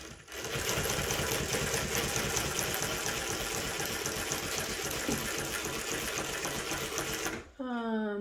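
A Mannan 3-thread chain stitch embroidery machine stitching a pillow runs with a dense, rapid mechanical chatter for about seven seconds, then cuts off abruptly, leaving a brief tonal whine at the end.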